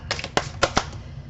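Tarot cards being shuffled by hand: a few sharp riffling bursts and soft flicks close by, irregular over a faint quiet background.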